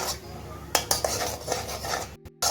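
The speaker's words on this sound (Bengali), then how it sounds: "পেঁয়াজ পেস্টটা দু মিনিটের মতো কষিয়ে নেব গ্যাসটা দুটো মিডিয়ামে রেখে" Onion paste being sautéed in a pan over medium heat for a shrimp malai curry, with a spoon clinking and scraping against the metal pan in a quick run of knocks over a low hiss of cooking.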